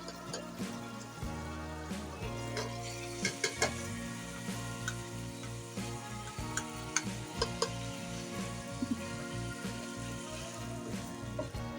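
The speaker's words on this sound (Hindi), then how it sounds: "तो इसके अंदर अब हम लोबिया ऐड कर देंगे।" Black-eyed beans (lobia) being stirred into a simmering curry gravy in a pot, with a steady soft sizzle and scraping stir sounds and a few clinks of a spoon, no talking.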